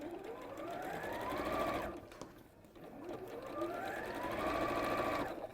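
A sewing machine runs a straight stitch on a quilted pocket in two steady sustained bursts separated by a brief slowdown, close and clear with no talk.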